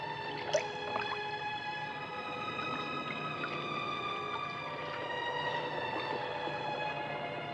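Clear mountain water is poured, with a faint, soft trickle and a few light drips and splashes at the start, quiet and close against a low background, with no voices.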